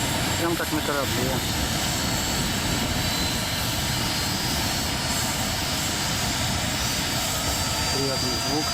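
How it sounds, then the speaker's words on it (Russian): Mi-26 heavy helicopter engines spinning up after auxiliary power unit start, a loud steady broadband roar with rising turbine whine throughout, with brief voices near the start and end. "Запуск двигателей."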